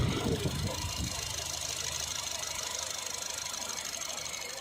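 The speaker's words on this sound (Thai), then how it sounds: "สตาร์ทเครื่องเรียบร้อยนะครับ" A 2012 Honda Freed 1.5 SE engine idles steadily with a constant hum and faint rattle, following a brief squeal at the start.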